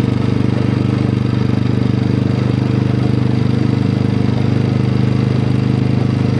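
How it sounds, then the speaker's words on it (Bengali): A motorbike engine-brakes in third gear on a downhill mountain road near Kalimpong, giving a loud, close, steady droning hum with a fast regular pulse and no voices. "আর এখন আমার গাড়ি ইঞ্জিন ব্রেকে চলছে, কোনো ব্রেক নেই, জাস্ট 3 নম্বরে দিয়ে দিয়েছি"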